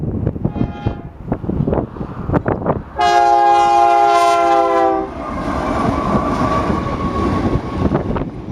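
A train hauling covered hoppers near the Deckle Spur rumbles past with clattering wheels, then sounds a loud, sustained multi-tone horn blast for about two seconds, followed by the steady roar of the passing cars.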